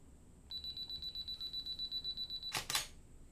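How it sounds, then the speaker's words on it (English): A quiet, steady series of beeps from a camera's 2-second self-timer runs for about two seconds, then a single crisp shutter firing closes it out. The setting is quiet. "I'm ready to take my shot"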